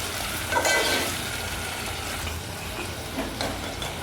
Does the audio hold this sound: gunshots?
no